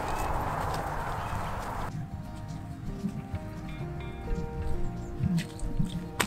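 Hooves of a walking horse clop unevenly close by, growing louder and more frequent toward the end, with low background noise and a little talk.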